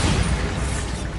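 A Bombarda blasting spell detonates in Hogwarts Legacy, a dense, continuous rumbling blast filling the whole moment with no clear gaps, loud and close.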